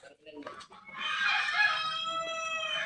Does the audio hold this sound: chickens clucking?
yes